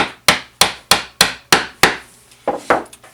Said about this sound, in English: I can lock that chisel into that layout line and I can start cutting.